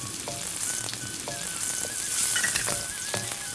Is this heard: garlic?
yes